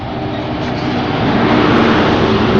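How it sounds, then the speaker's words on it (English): A Class 43 HST diesel train roars past close by at Cardiff Central, a loud, steady engine drone with rushing rail noise that swells slightly as it goes. "this will be my first ever HST, my first ever Class 43 recording on any of my videos"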